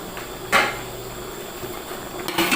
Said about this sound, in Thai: ใส่แล้วก็ปิดฝาไปเลยครับ